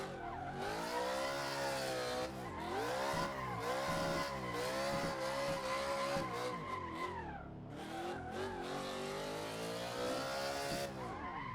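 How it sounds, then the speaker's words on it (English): A car drifts through a corner, its tires squealing loudly under a high revving engine whose pitch rises and falls. The sound dips briefly midway, then the screech and revving return. "lighting up the tires and holding the drift through the turn"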